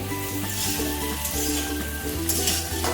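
Rohu fish curry with mukhi kochu and potatoes sizzling steadily in a pan while being stirred, a continuous close frying hiss with a low hum beneath and no talking.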